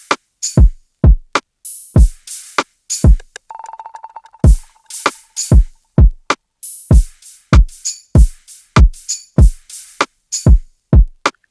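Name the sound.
2000s R&B type beat drums in FL Studio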